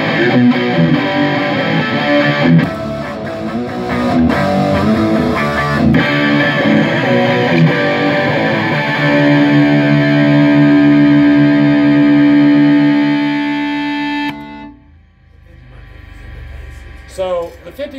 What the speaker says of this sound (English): I heard the high gain out of the Marshall